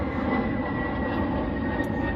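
An airplane passing overhead, a steady broad engine roar holding even throughout, fairly loud and alone with no voices.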